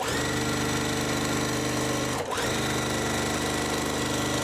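A home sewing machine stitches quilt block pieces for a designer quilt-along block, running steadily and close with a constant whirring hum, broken only by a brief dip near the middle.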